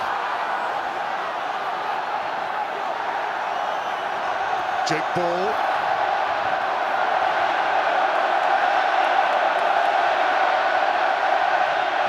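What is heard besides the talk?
rugby stadium crowd cheering, England v Wales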